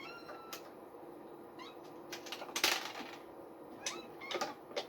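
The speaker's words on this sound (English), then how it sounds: "you can probably hear them. I have cats crawling all over me throughout this process." Several cats meowing nearby, short scattered mews and a louder cry, over soft rustling and shuffling as they crawl around, with clicks and faint background hum.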